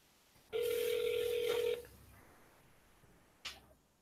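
A phone places a call: a loud steady electronic tone sounds for about a second, then a short burst follows a little later, close and clear.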